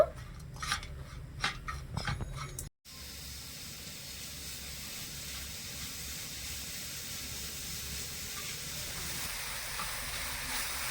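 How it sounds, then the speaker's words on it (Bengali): Grated coconut and jaggery cook in a wok for a pitha filling, starting with a few scrapes and clinks of stirring, then a quiet, steady sizzling hiss. "নারকেলটা একটু ভাজা ভাজা করে নেব"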